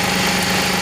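A car engine that starts hard, with a P0155 fault code, the check engine light on and the radiator fan always running, keeps idling in a brief, steady, loud hum with no pause.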